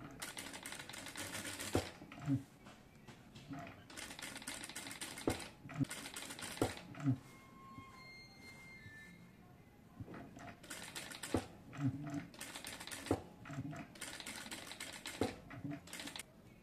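A sewing machine stitching a boat neck design runs in several loud bursts of rapid mechanical clatter, separated by quieter pauses with light handling noises, close up.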